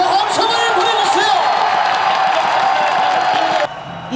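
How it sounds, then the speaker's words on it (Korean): Hundreds of citizens gather in the square outside Gwangyang City Hall during an under-20 football World Cup final. Their cheering, whooping and clapping rise as a loud, continuous roar, with speech mixed in before it cuts off abruptly. "지역의 시민 여러분들 박수 함성을 보내주세요"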